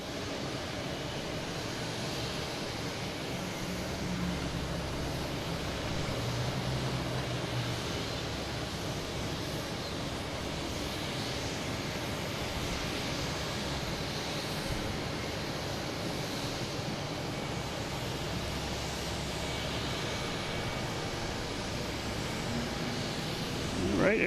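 An Air Portugal airliner departs Boston Logan, heard as a distant, steady broadband jet roar that persists throughout without clear peaks.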